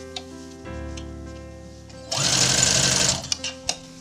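Sewing machine stitching around fur fabric, a low motor hum building into a loud, steady run of rapid stitching for about a second, then stopping with a few small clicks.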